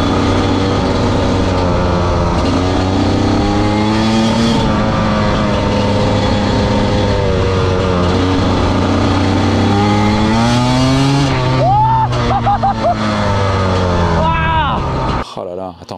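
A TM 300 two-stroke motorcycle engine drones and revs continuously up close, pitch rising and falling with throttle blips, while people talk over it.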